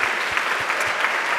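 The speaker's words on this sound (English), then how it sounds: "So let's give them a round of applause." An audience at a school play applauds the cast, a steady, full burst of clapping from many hands filling the room.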